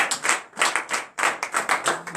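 A congregation claps in rhythm at a morning prayer service, with steady bursts of hand claps that swell, break off briefly, then resume, close and loud, with no talking over them.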